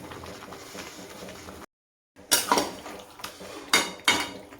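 A utensil scrapes and clinks against a cooking pan while a cashew dish is stirred, with a few sharp metallic knocks after a short silent gap, close and fairly quiet.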